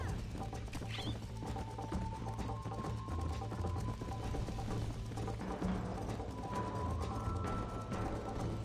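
Horse hooves clip-clop steadily in Red Dead Redemption on Nintendo Switch, set against a dense, continuous bed of game ambience and mechanical noise, with faint tonal music lines drifting through.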